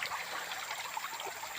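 A river flows steadily beside an outdoor riverside meal of fried eel, with a continuous close wash of rushing, trickling water and no other sounds.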